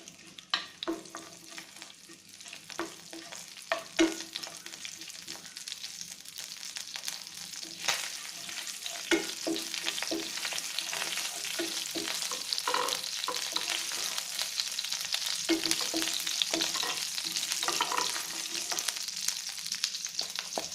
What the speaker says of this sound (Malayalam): അതിനാദ്യം പെരിഞ്ജീരകം, പട്ട എന്നിവയിട്ട് നന്നായിട്ട് മൂപ്പിക്കുക